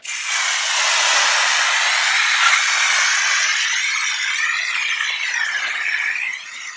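A strong hissing pressure-washer spray rinses a Fiat during detailing. The steady, loud, close spray shifts in tone as the jet moves across the car, then cuts off at the end.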